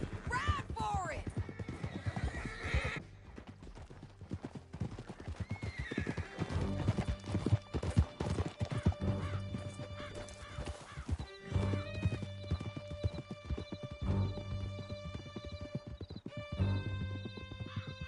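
Horses gallop with steady clip-clop hooves and repeated whinnies in a Red Dead Redemption 2 canyon chase, loud and close under a musical score, with brief voices.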